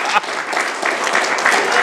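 Applause breaks out at a special city council meeting in West Covina, a dense, steady patter of clapping filling the room for about two seconds with a brief dip near the start.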